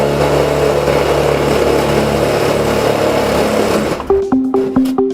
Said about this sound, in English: And now Dan is going to insert some screws.